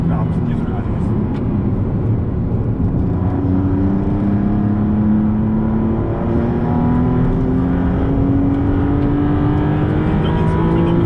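A Maserati MC20 twin-turbo engine accelerates hard on a race circuit, its pitch climbing steadily through the gears over about eleven seconds, loud and close inside the car while people talk over it.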